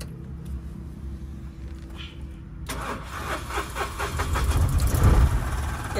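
A Mahindra Supro BS6 pickup with a diesel particulate filter soot fault cranks and starts. A quiet hum gives way to the engine catching, then a steady mid-pitched idle that grows louder and rougher, heard close up.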